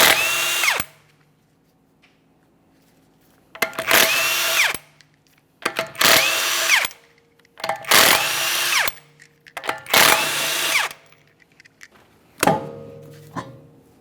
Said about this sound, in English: To remove the rear wheel, we're going to remove all 5 of our 21mm lug nuts